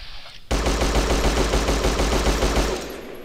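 A gun in the video game Fallout 3 fires a sustained rapid automatic burst that starts abruptly and runs for nearly three seconds, loud and close, then fades out.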